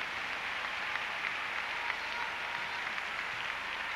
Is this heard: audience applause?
yes